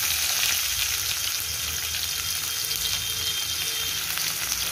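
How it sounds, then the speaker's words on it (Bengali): Chopped onion and spices fry in hot oil for an egg curry, a steady dense sizzle that stays loud and close throughout with no pauses. "কুচি করা পেঁয়াজ আমি দিয়ে দেব।"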